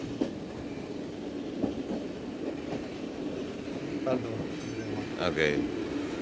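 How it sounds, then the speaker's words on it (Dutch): A train on a journey to Romania via Budapest rolls along its rails with a steady rumble, rhythmic wheel clatter and a few squeals, heard from on board while people talk nearby. "En dat geluid, die rails. Het is afschuwelijk."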